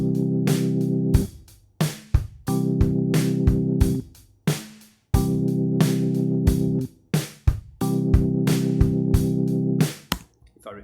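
A blues chord progression plays back in GarageBand as sustained keyboard-like chords, each held about a bar, with short gaps and sharp clicks between them, loud and close.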